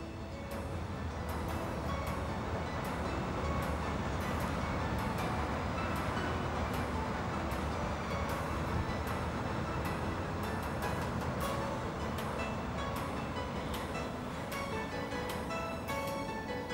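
Train on the Gotthard line running along Lake Lucerne from Lucerne to Arth-Goldau, a steady continuous rumble of wheels and carriage noise with regular sharp clicks from rail joints, sustained at an even level without speech.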